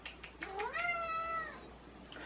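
A cat gives one drawn-out meow indoors, rising then falling in pitch, moderately close against a quiet background with no talking.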